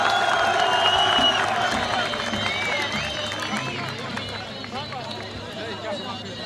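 Large crowd at a Kurdish street protest clapping to welcome Peshmerga, a loud dense wash of applause that slowly fades while a voice speaks over it through amplification.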